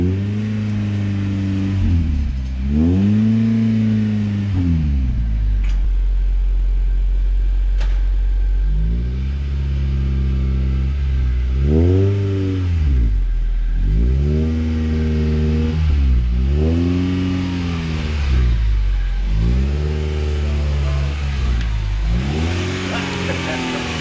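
Honda CD7 Accord fitted with an H22 engine driving off on a cold day, rising and falling revs through repeated gear pulls, loud and close, with voices talking at times.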